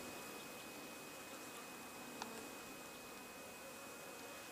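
Honey bees on their first spring flight around the hives make a faint, steady buzzing hum, a diffuse swarm drone with no talk and only a tiny click partway through.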